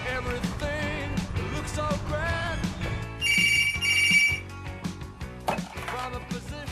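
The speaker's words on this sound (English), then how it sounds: "Phone's ringing." Telephone bell rings twice in close succession as a bright trilling burst, loud against background music and household sounds.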